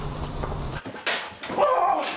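A police dog from a family of canine officers makes short yips and whimpers amid a noisy, busy background.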